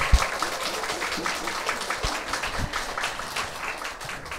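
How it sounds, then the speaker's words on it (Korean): Applause from a small audience at a book launch talk show, moderate and fairly even, with a few sharper individual claps standing out before it slowly fades. "다시 한번 감사의 박수 보내주시면 감사드리겠습니다"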